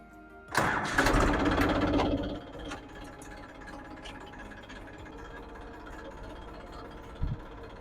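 A tractor engine cranks and catches with a loud, rough roar, then settles into a quieter steady idle with a faint clunk near the end, heard nearby with no talking.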